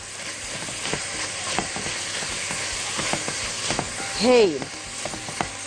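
Onion and chicken sautéing together in a pot for freekeh soup give off a steady, close broadband sizzle with scattered stirring knocks, and a voice speaks briefly near the end.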